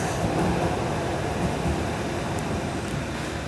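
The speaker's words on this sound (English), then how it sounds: "Oh, there goes the train. It's about to get a little bit noisy." A metro train passing through a station near Newcastle gives a steady, loud, broadband roar and rumble that holds throughout with no speech.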